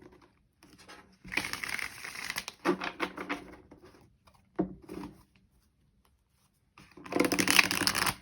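Tarot cards are shuffled and cut in a quiet room, with several bursts of riffling and papery flutter separated by near-silent pauses; one short slap of the deck is followed by a longer final shuffle.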